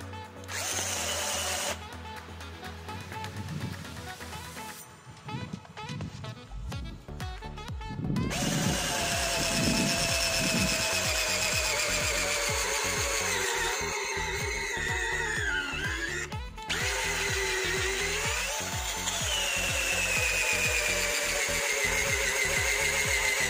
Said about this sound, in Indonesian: di sini saya menggunakan mata bor auger, untuk diameternya sama ya, 10 mm.